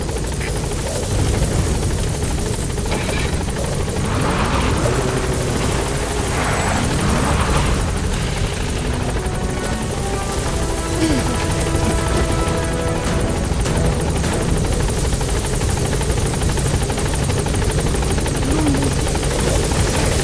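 The B-Quad support helicopter hovers in Metal Gear Solid V, its loud rotor throb and engine whine holding steady and close for the whole stretch, unbroken.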